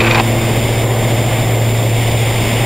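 A steady, loud propeller-engine drone roars continuously from inside a twin-engine Diamond DA-42 NG at takeoff power, deep and unbroken throughout.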